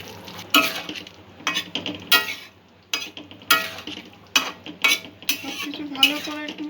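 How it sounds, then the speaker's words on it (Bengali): Spicy prawn manchurian with gravy being stirred in a pan, a spoon striking and scraping the metal in repeated irregular knocks, close and clear over a faint sizzle. "সবকিছু ভালো করে একটু নেড়ে নেব।"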